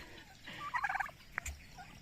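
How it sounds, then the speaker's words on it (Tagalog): A turkey following people on a rural farm lets out a short, quick gobble at close range, a rattling burst of warbling notes followed by a couple of soft knocks. "sumusunod sa atin yung pabo"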